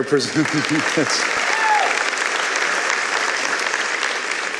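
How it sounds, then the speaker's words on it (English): A large crowd at an art festival finale claps loudly and continuously, dense applause filling the whole stretch; a voice chants briefly at the start and cheers rise within the clapping. "you can clap for that"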